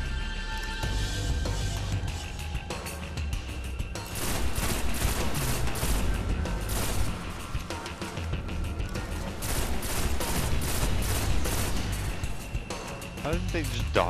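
Dense, continuous bursts of gunfire fill a firefight in the video game Destiny, loud and sustained, with a voice speaking over the shooting.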